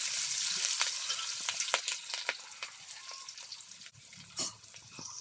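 Cumin and onion paste fry in a pan in a village kitchen: a constant bright hiss close up, with stirring scrapes and utensil clicks breaking through now and then.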